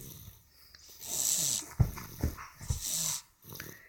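A small dog snorts and grunts in short bursts, with a few soft whimpery sounds close by.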